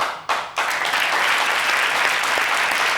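A studio audience at a French-language midday TV talk show bursts into loud, dense applause. It carries on steadily after a couple of brief dips at the start.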